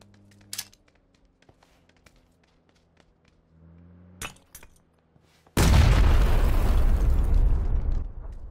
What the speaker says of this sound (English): He somehow managed to throw a grenade right at my feet, and nearly killed himself too.